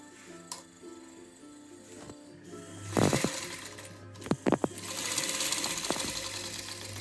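Vintage Singer 95K industrial sewing machine running after oiling with a snapped bobbin, a steady close mechanical hum and whir punctuated by a few sharp clanks and knocks, the motor growing louder toward the end.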